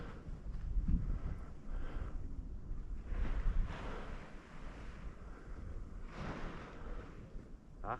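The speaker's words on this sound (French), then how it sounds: "Christophe, il y a une jolie brise là" Breeze blowing across a paragliding launch site, a soft continuous rush with gusty swells and wind buffeting on the microphone, no voices.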